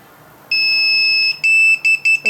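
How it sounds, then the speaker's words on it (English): Retekess TD167F restaurant pager beeping: one long steady tone, then a few shorter beeps in quick succession, loud and close. "We can hear the beep sound."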